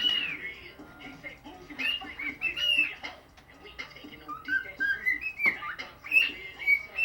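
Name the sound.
bird whistling the Andy Griffith theme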